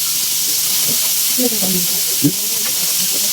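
A steady sizzle of food frying in hot oil, a constant hiss with a few soft pops, and faint voices murmuring in the background.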